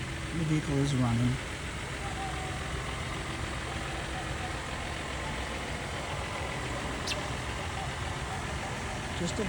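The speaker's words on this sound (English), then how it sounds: "The vehicle is running." A 2006 Toyota Sienna CE minivan idles with a steady low engine hum on a used-car lot, joined by a brief voice near the start and faint background noise throughout.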